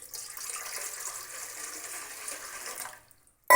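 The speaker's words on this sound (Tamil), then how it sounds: "இட்லி குண்டா வச்சுட்டு தண்ணி ஊற்றிக்கிறோம்." Water runs steadily in a continuous stream for about three seconds into an idli steamer pot, then stops abruptly, followed by a brief clatter.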